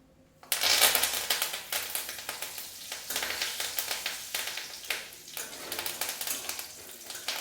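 Curry leaves slipped off a spatula into hot oil for sambar dal burst into a sudden loud, crackling sizzle that keeps popping and spitting in uneven surges for several seconds, close up and with no voices.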